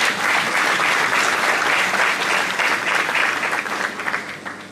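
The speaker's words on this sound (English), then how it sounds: "And here you can give us a round of applause." Sustained audience applause at a high school graduation ceremony, a dense crowd of clapping hands filling the hall steadily before gradually thinning toward the end.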